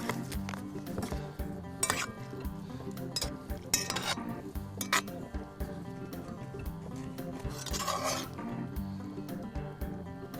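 A spoon clinks and scrapes against a pot while seasoned sausage, potato and green bean stew is stirred at a campsite, close and irregular, over a low bubbling, humming background with no speech.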